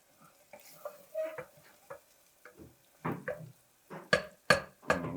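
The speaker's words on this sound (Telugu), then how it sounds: "ఒక 1 minute జస్ట్ ఆయిల్లో ఫ్రై అయితే చాలు" Spices for a mutton curry fry in hot oil, with soft sizzling under a series of sharp scraping and clacking stirs of a spoon against the pan that grow louder and more frequent toward the end.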